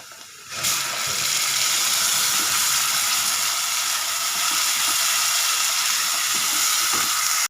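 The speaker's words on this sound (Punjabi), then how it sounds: "ਹੁਣ ਇਹਦੇ ਚ ਪਾਵਾਂਗੀ ਮੈਂ ਟਮਾਟਰ ਦਾ ਪੇਸਟ" Onions fried to golden brown hiss loudly in a frying pan as tomato paste goes in, a sudden burst of steady, bright sizzling that holds strong for about seven seconds.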